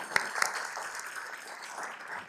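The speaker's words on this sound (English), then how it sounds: "Give yourselves a round of applause" Audience clapping at a city council meeting following a Mental Health Awareness Month proclamation, a steady wash of many hands with a couple of sharper claps near the start, moderately loud and continuous throughout.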